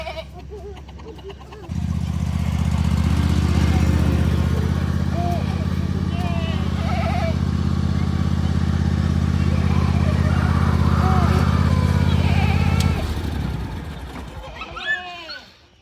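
Goats bleat now and then over a loud, steady engine drone that runs through most of the clip before cutting off near the end.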